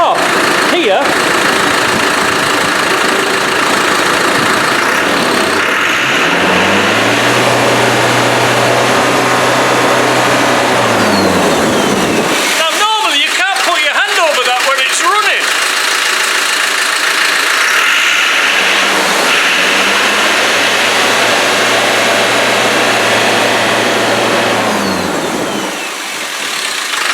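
A mid-sized vehicle engine runs with its turbo hose removed, idling then revving up and falling back in two long rises, loud and close, with a short stretch of other noise between them.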